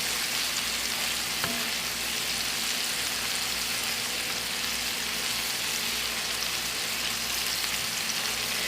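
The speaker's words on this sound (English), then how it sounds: "A good sear" Meatballs searing in a hot pan, a dense, steady sizzle running loud and unbroken throughout, with one faint clink partway in.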